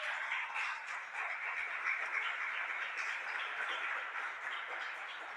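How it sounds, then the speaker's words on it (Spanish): A church congregation claps in a faint, distant, steady patter of applause that holds evenly for several seconds with no speech over it. "Dale un aplauso a esta palabra."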